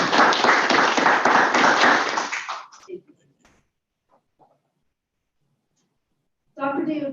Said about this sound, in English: I think she deserves a round of applause because it's been a busy year.